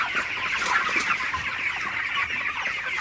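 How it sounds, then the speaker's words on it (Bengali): A flock of broiler chickens in a farm shed at night clucks steadily, a busy overlapping chorus of soft murmuring clucks at close range with no voices over it. "তো মামার ব্রয়লার মুরগিগুলো কিন্তু আসলে ভালোই আছে"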